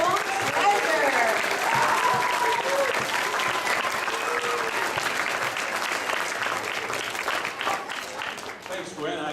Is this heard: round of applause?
yes